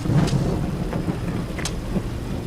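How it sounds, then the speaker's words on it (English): A heavy rainstorm in the Amazon pours steadily, with thunder rumbling low and continuous and a few sharp crackles cutting through the dense wash of rain. "It doesn't look like this rain is going to let up."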